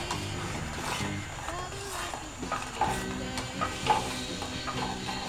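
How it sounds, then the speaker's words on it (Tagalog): Gelatin mixture dissolving in a pot, stirred with a utensil that scrapes and clinks against the metal in an uneven rhythm, with a soft bubbling hiss underneath and a voice talking over it. "Haluin natin ng maigi."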